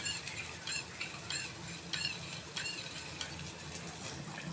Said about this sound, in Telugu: మనం కలిపి పెట్టుకున్నాం కదా కార్న్ఫ్లోరు, అది మంచిగా కలిపేసి ఉండలు లేకుండా దీనిలో పోసేయాలండి